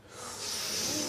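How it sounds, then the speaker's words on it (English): A studio audience at a comedy quiz show draws in breath sharply together, a brief, soft, swelling hiss of collective wincing. "That was the sound of audible wincing, Jermaine."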